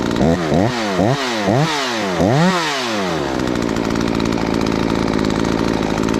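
A ported Husqvarna 543xp chainsaw revs in a string of sharp throttle blips that rise and fall quickly, then settles into a loud, steady high-rpm scream.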